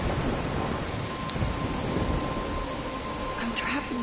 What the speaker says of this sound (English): I'm trapped in this storm?